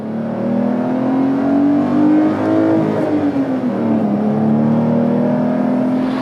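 A 2022 Porsche 911 GTS with a 3-liter twin-turbo engine revs hard, its loud, close engine note climbing and dipping in pitch with a smooth, sustained roar and no talking.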